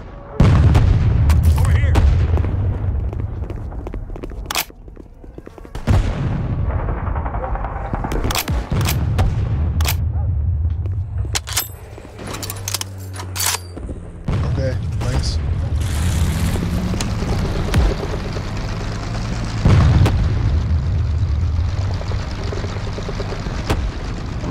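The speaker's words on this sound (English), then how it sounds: "Yes, I'm the machine gunner." Sustained game gunfire in Garry's Mod from a player manning a machine gun, dense bursts and booming shots running nearly nonstop at close, loud level, with a voice talking over parts of it.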